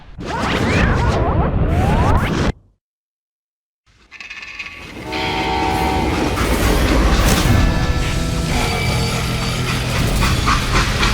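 A train rumbles along in the Old West shooter Call of Juarez: Gunslinger, with loud continuous clattering wheels and rolling noise that breaks off into a brief silence, then resumes as a dense mechanical roar with tonal squeals.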